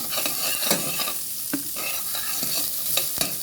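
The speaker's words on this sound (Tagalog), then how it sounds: "lalagyan na natin ang ating sibuyas mga sangkay sibuyas. Igisa lang din muna ng mga ilang segundo." Chopped onions sauté in a hot pan for chicken tinola, a steady close sizzle broken by repeated scraping clicks of a spatula as they are stirred, with no talking.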